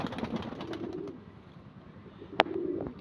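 Pigeons cooing inside a loft, low soft coos rising and falling over a murky background with a sharp click near the end, close and moderately quiet.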